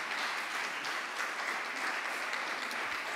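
A crowd applauds continuously, a dense, even wash of many hands clapping at once, sustained throughout without any talking.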